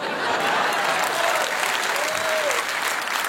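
Sustained applause from a studio audience at a French satirical comedy show, dense and steady for several seconds without talk.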